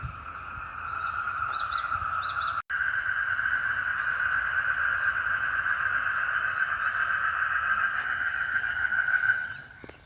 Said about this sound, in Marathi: बेडकांचा जर आवाज पाहिला कर्णकर्कश आवाज आपणाला येत आहे